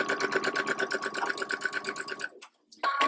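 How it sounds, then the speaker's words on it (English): A domestic sewing machine stitches a quilt block in a fast, steady mechanical run close up, stops briefly near the end, then restarts with a short burst. "And sew."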